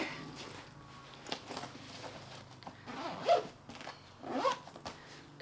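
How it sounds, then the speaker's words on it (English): A backpack zipper being pulled closed, with several short zipping bursts and handling rustles near the microphone and no speech. "Let's zip this up real quick."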